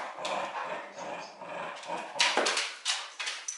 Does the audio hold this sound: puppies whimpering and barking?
yes